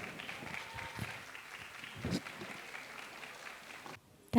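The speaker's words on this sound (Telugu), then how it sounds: "గట్టిగా చప్పట్లండి ఒకసారి." Applause from an audience at an Ugadi celebration by Telugu people in South Africa, moderate and steady, with voices and crowd murmur mixed in, ending in a brief louder burst.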